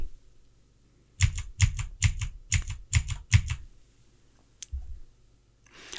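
Fingers type on a computer keyboard in a quick, even run of about a dozen close, crisp keystrokes. A pause follows, then a single isolated key tap, with no talking.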